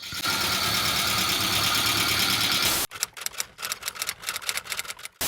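A 1988 Suzuki Samurai engine runs with a steady, busy clatter close by, then cuts to a choppier, uneven rhythm of rapid mechanical pulses.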